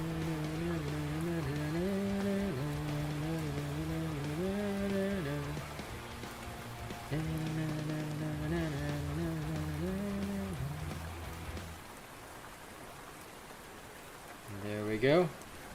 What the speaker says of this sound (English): We gotta enjoy the sound of the rain.